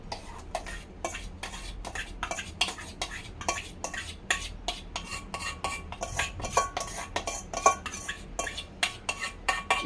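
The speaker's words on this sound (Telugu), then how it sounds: "ఈ గోధుమ పిండిలో వేసి మనం కలపాలి చుట్టూ మొత్తం." Banana cake batter is mixed into wheat flour in a bowl, giving a quiet, rhythmic run of scraping and tapping strokes that repeats steadily throughout.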